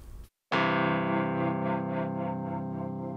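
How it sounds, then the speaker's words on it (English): Clavichord voice from a Mellotron M4000D app on an iPad, run through an Eventide Undulator tremolo effect: a sustained, bright chord swells in with a steady pulsing tremolo throbbing several times per second, loud and alone after a brief gap. "So that's kind of a basic tremolo sound."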